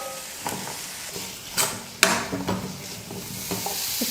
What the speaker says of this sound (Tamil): தேங்காவை சேர்த்து 1 நிமிஷம் நல்லா வதக்குனதுக்கப்புறமா